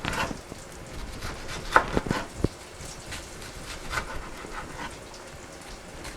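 A knife chops down through an onion in a home kitchen, giving a few sharp, close cuts around the two-second mark over a faint, steady background hiss.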